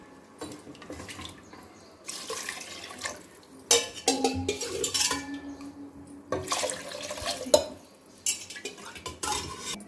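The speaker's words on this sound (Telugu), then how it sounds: "నేను 6 గ్లాసెస్ వాటర్ పోస్తాను" Water pours and splashes into a pot of rice in several bursts, mixed with clinks of metal utensils and stirring, close by, with no talk.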